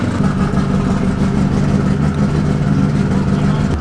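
A car fitted with a sequential shifter with a carbon fiber handle and a heavier-duty clutch drives around a compound, its engine giving a loud, steady, close droning hum with no pauses.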